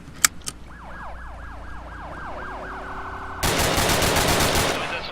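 Loud, rapid machine-gun fire in the Arma video game erupts near the end in a dense burst of shots. Before it, a wailing vehicle siren sweeps up and down over engine drone, and a couple of sharp single cracks sound early on.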